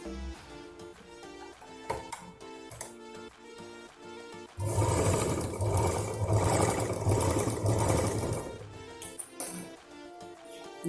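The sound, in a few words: sewing machine stitching rolled cloth into a rope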